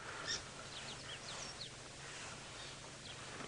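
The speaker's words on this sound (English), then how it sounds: "you can hear these birds. They're making their kind of alarm call" Faint, short high-pitched bird alarm calls, a few scattered chirps over quiet outdoor background hiss at sunrise on a safari drive, distant and sparse.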